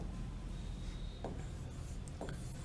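Faint scratchy strokes of writing on a board, a few short scrapes over quiet room noise.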